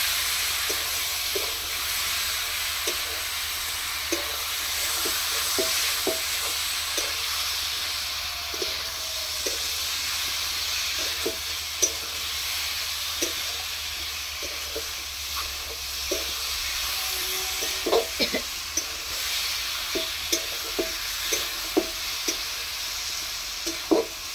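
Ridge gourd stir-fried with potato in a pan for a thin rohu fish curry, giving a steady close sizzle with repeated scraping and stirring clicks from a utensil throughout, no voices.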